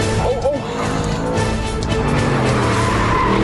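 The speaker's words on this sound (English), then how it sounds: "And the engine picks up so beautifully." An Audi R8 engine pulls hard around a racetrack, a loud, close, continuous roar with steady tone, a brief squeal of tyres underneath.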